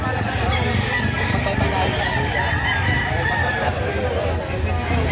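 White Kelso gamecock rooster at a Saturday chicken market in Lipa City, Batangas, clucking and crowing amid dense crowd chatter and other fowl, continuous and busy throughout.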